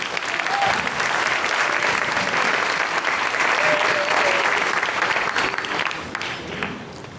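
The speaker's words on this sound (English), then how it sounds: "Let's give her a round of applause" An audience applauds a performer after a lovely performance, sustained, full clapping from a large crowd that holds steady and then tapers off at the close.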